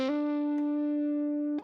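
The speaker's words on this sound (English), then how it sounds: "That would sound like this, without any reverb." One plucked electric guitar note rings out clean and dry with no reverb for about a second and a half before the next pluck.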